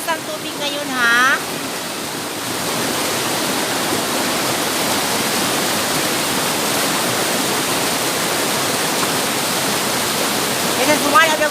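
Tamadong Falls pours with strong flow, a loud, steady broadband roar of falling water that fills the whole scene without letup.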